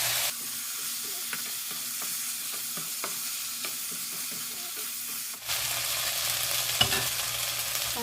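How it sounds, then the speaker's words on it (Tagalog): Chicken sizzles and fries with translucent onions in a pan, with steady crackling, light scraping stirs, and a sudden louder burst of sizzling partway through as more goes in. "ilagay natin yung ating pinapulang chicken kanina"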